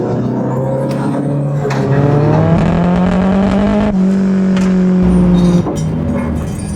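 A battered, stripped-down Nissan 240SX drives along back roads, its engine droning loud and close with a steady rising and falling pitch as it pulls through the gears.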